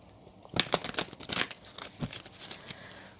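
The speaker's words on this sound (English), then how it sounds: "just going to give the cards another shuffle" Oracle or tarot cards being shuffled by hand, a few quick crisp riffles and papery snaps in bursts, close and fairly loud, with quieter rustling between.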